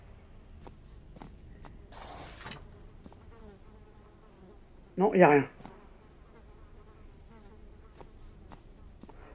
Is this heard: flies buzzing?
yes